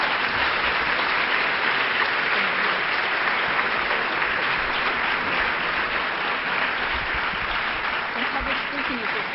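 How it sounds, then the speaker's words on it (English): Sustained, dense applause from an audience honoring an award recipient at an event for a program aiding sexual assault victims, a loud, even roar of clapping lasting several seconds with a few voices mixed in. "Will you please give him a hand of applause for the amazing work he does?"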